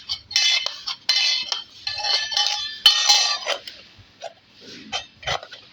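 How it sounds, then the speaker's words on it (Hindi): Metal utensils and pots clank and clink in bursts as they are washed nearby in a home, with sharp, irregular jangles, scrapes and rattles, some louder hits and quieter gaps, and no talk. "सारे बर्तन धुले हैं, तो जो पीताम्बरी गिरती है वो सब साफ़ सफाई हो रही है"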